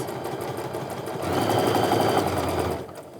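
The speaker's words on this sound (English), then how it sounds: "now I'm going to sew real slow as I go over that middle" A sewing machine stitches slowly along a quilt seam, its steady mechanical whir holding at a moderate level and growing a little louder and denser midway before easing off, with no talking over it.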